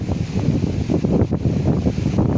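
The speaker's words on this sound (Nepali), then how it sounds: "यहाँ हावा चलिरहेछ है, हावाले अलिकति डिस्टर्ब गर्छ होला।" Steady low rumbling wind buffeting the microphone, loud and continuous, with faint rustling texture and no voices.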